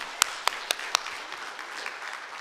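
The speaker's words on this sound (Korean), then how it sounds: "하나님께 영광의 박수 올려요" Scattered applause from a church congregation at a Sunday worship service, four distinct sharp claps in the first second, then a diffuse room ambience with faint, sparse clapping fading out.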